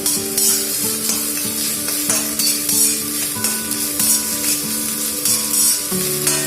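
Yellow, red and green capsicum strips tossed in a wok over high heat for street-style veg Hakka noodles, with loud continuous sizzling and rhythmic repeated scraping strokes of the spatula against the pan.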